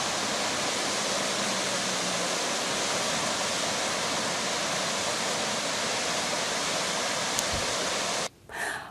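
A steady, loud rush of falling water from a waterfall fills the scene without a break, then cuts off abruptly near the end.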